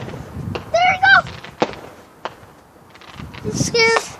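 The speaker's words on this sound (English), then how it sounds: "You might see the fireworks." Fireworks set off in a nearby backyard crack in several sharp, scattered bangs, heard at a moderate distance while excited voices shout over them.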